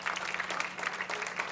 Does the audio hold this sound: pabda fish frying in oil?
no